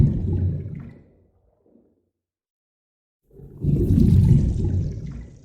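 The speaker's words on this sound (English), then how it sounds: "we've got water recordings." Two loud rushing surges of processed water recordings, like a heavy pour or flush, separated by a couple of seconds of near silence.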